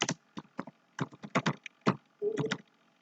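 Bursts of keystrokes on a computer keyboard as a project name is typed into structural connection design software, close and clear, with short pauses between words and one faster run of taps near the end.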